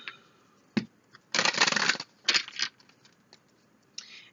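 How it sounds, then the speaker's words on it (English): Tarot cards are shuffled by hand at close range in a few short riffling bursts separated by quiet pauses, with one longer rustling burst in the middle. "One more shuffle."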